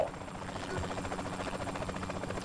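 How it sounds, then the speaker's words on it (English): Helicopter flying over the city in the video game Saints Row The Third Remastered, a steady rotor drone and whine holding at an even level throughout. "The helicopter."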